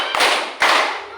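Children in a classroom clap together in counted unison, two sharp, close group claps about half a second apart with a ringing tail.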